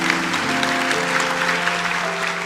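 Congregation applause at an Indonesian church sermon, a dense, steady wash of many hands clapping for the whole stretch, with faint tonal music sustained underneath.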